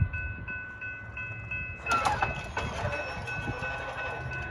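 An eastbound BNSF freight train hauling a coal load rumbles past at a distance, with steady low rolling noise that swells as rail screeches and wheel clatter rise midway.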